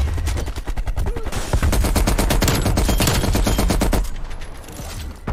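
Rapid sustained bursts from an M60 machine gun in Call of Duty Cold War, loud and dense automatic fire with a brief pause, then a final burst at the very end.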